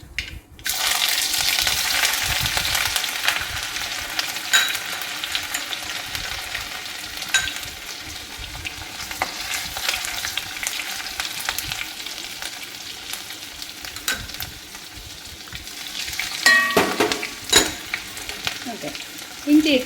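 Crushed ginger frying in hot oil after mustard seeds, while a garlic pickle is being made: a steady, bright sizzle with occasional stirring scrapes, close and continuous with no talking.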